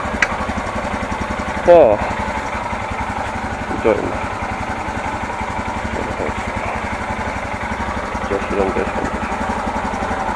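A Royal Enfield Himalayan 411 motorcycle, not started for a long while, idles with a steady low thumping beat close by, while someone speaks briefly over it.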